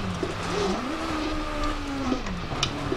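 A rally car in the Dirt Rally video game accelerates, its engine droning continuously and rising and falling in pitch as the revs climb and shift. The sound is loud and steady throughout, with no voices.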